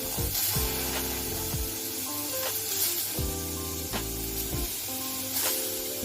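Tomato heating in a hot pan gives off a steady sizzle and hiss throughout, loud and close, with music playing over it.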